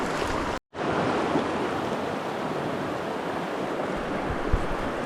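A small waterfall over logs in a Pennsylvania trout stream gives a steady, close rushing wash of water after a brief cut near the start.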